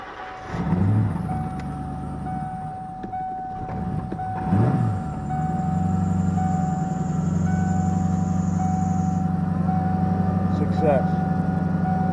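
A small car engine idles steadily with a salvaged truck muffler newly fitted, giving a low, even exhaust drone that settles in after a couple of revs and runs on loud and close to the end.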